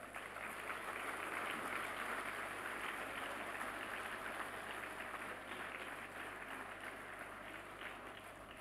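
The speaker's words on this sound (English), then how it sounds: "Can we have a huge round of applause?" A crowd at a CSIR Foundation Day celebration applauds in a dense, continuous wash of clapping. The applause stays steady and fairly faint across the whole stretch, with no voices over it.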